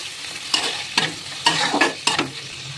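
Onions, tomatoes and cashews frying in a pan for butter chicken: a steady loud sizzle broken by about five sharp scraping stir strokes at irregular intervals.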